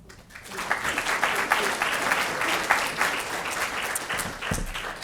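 An audience at a showcase event applauds its speakers, a rising then steady wash of clapping lasting about five seconds, with no one speaking over it.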